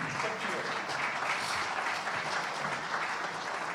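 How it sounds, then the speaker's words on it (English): Sustained applause from a large audience at a political plenary session, dense and steady throughout with no pauses. "That was an easy applause to get."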